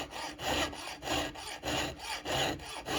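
Hand file drawn lightly across a STIHL chainsaw chain to knock off a burr, a close, rhythmic rasping of about six even strokes, each a steady scrape with brief pauses between.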